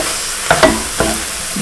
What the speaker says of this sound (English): What I'm going to do now is add the flour and mix it in well.